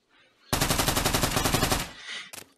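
UMP submachine gun firing a rapid burst of about twenty shots in the Pavlov VR zombies game, loud and close, then a short tail and a brief clatter.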